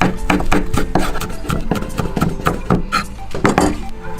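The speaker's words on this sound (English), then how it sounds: "In goes the spring onions." Chopped spring onions, green parts included, drop into a bowl while an omelette roll is prepared, giving a run of close, dry rustling taps and soft clinks in an irregular rhythm with no talk.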